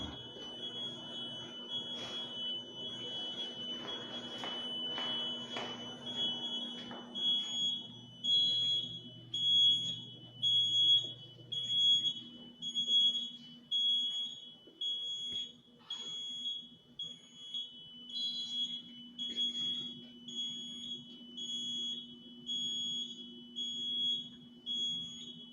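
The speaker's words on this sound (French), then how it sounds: "si vous attendez un système d'alarme, c'est normal" Alarm system sounding inside a building, with steady high-pitched repeating electronic tones and a sustained low hum throughout, heard close and continuous with some clatter early on.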